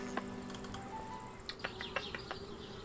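Buzzing insects in an Anna's Quest adventure game scene, a soft steady drone with several brief flutter-like bursts toward the end, fairly faint under other ambient game sound.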